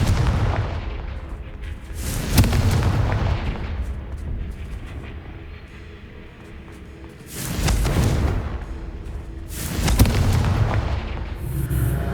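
Confringo fire-blast spells exploding in Hogwarts Legacy, three loud booming blasts spaced several seconds apart, each with a rumbling tail over low background game noise.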